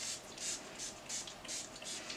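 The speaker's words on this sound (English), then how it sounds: "I'm going to spray this." Several short airy hisses from a spray bottle spraying oil onto hair locs, pumped in a steady rhythm of about six quick bursts, close and fairly soft.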